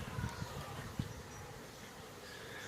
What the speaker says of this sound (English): So very industrious bees here, and boy, they're working hard here to live in this box.